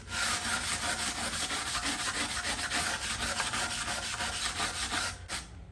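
A wire brush scrubs rust off a car wheel being prepped for epoxy enamel paint, a steady, close, raspy rubbing that runs continuously with rhythmic strokes before stopping abruptly near the end.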